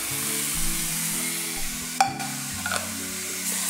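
Steak cooking in a pan, a constant hiss of frying with a sharp utensil clink and a few scraping knocks partway through, loud and close with no talking.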